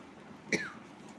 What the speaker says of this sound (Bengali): মানে একটু খুশখুশ হয়ে গেলো আর কাশি হচ্ছে